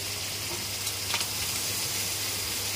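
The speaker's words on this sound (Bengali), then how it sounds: "সাদা তেলে চিংড়ি মাছগুলোকে হলুদ নুন মাখিয়ে রেখেছিলাম, ওটাকে ভেজে নিচ্ছি।" Prawns rubbed with turmeric and salt sizzle steadily in white oil, lightly fried for a malai curry; a continuous, close frying hiss with a few faint crackles and no talking.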